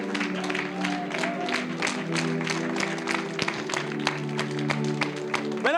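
A church congregation claps and cheers in praise of the Lord, a dense run of hand claps over sustained keyboard or organ tones, steady and fairly loud throughout.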